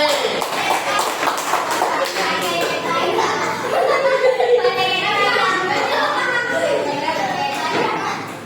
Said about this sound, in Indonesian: Berikan tepuk tangan kepada kelompok C.